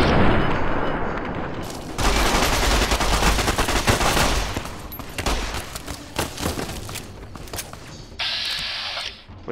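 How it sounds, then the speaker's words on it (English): Submachine gun fire in the video game Fallout New Vegas, several loud rapid bursts of automatic shots separated by short gaps, with a sharper metallic rattle near the end. "Try the submachine gun."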